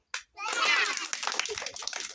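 Children at a camp playing a head-nose-shoulder action game, a brief burst of group clapping after a short pause, with kids' voices chanting over it.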